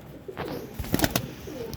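A Ferozpuri Jeera pigeon gives a short, soft coo close by, a couple of brief low rolls with a few sharp clicks in between.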